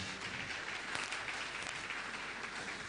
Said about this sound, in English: We can give a second round of applause,